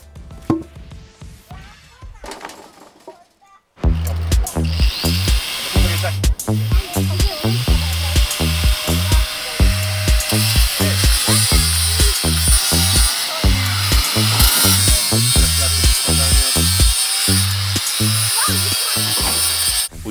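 Power tool sanding, with a steady whirring motor pulsing in rapid regular strokes after a quiet start, loud and close, continuing without pause for the rest of the time.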